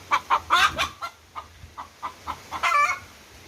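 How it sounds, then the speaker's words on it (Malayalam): A hen that has just laid an egg cackles nearby in a string of sharp, rhythmic clucks, ending in a longer, louder call with no talking over it. "ഈ കോഴി എന്തിനാ കരയുന്നതെന്ന് അറിയാവോ?"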